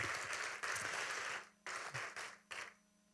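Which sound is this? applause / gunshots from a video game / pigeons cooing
applause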